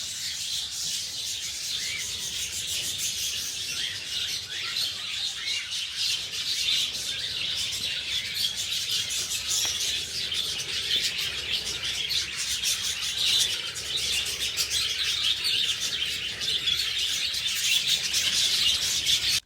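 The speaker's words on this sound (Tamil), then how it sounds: "கிளிகளினுடைய சத்தம் கேட்கும்னு நினைக்கிறேன் உங்களுக்கு" Parrots kept in a shed in a hotel garden on Jersey Island chirp and squawk steadily for about twenty seconds over a continuous hissing, rubbing background, moderately distant and unbroken by talk.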